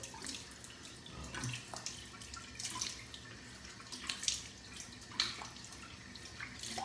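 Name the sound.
water running while rinsing off alum after shave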